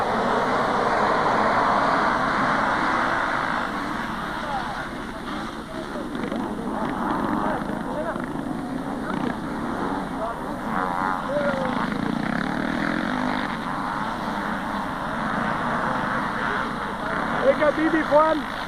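Motocross motorcycles roar off the start line together at a 1990 Austrian amateur race in Griffen, a steady massed engine drone that stays loud and continuous throughout.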